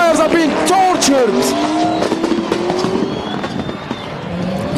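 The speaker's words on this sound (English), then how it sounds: "You can hear those tires are being tortured." Rally car drifting hard through a desert clipping zone during the King of Desert round in Muscat, its tires squealing in sliding, wavering tones over a loud revving engine, with a commentator's voice underneath.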